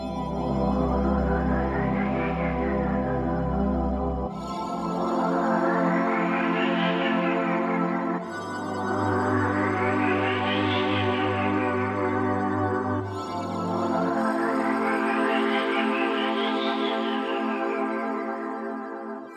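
Airy, floating synth pad washed in reverb, with a detuned ensemble chorus and delay stretching its tail; four long swelling chords rise and fade in turn, loud and steady with no voices.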